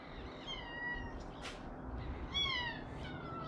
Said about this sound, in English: It's our neighbor's cat.